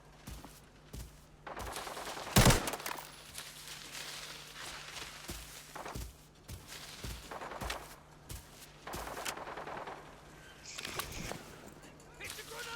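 Gunfire in the shooter game Arena Breakout: a sharp, loud burst stands out early, then scattered fainter shots and footstep-like thuds follow over a steady background hum.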